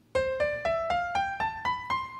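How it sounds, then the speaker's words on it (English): Eight piano notes on the white keys climb one after another in an ascending scale, each struck evenly about a quarter second apart and ringing clearly with no talk. "And all of the white keys sound like this when played in ascending order."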